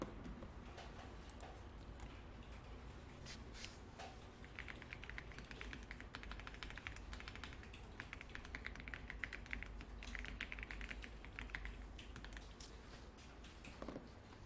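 Quiet, continuous clicking of a computer keyboard during a Korean word-processing class, with irregular rapid taps and no voices over it.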